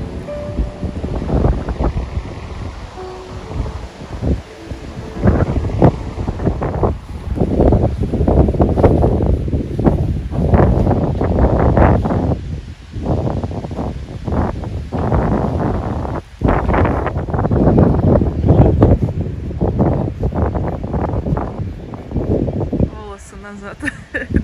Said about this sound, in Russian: Сегодня достаточно ветрено.